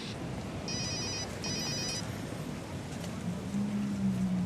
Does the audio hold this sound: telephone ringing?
yes